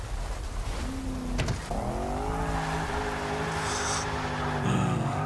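A Range Rover Sport SVR engine in the Forza 6 racing game, revving and shifting with rising tonal whine, a sharp gear change early on, and faint tire noise near the end.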